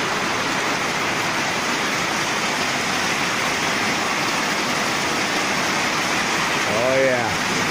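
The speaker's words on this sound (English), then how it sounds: "watch the rainstorm for a while. Oh, here it comes. You can hear it now." Heavy rain from a storm pours down steadily, heard from a balcony as a dense, loud wash of noise that stays constant throughout, with a faint voice near the end.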